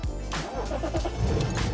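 A worn-out diesel car bought for 100 euros cranks briefly and catches, its engine settling into a rough, close idle with a low rumbling hum.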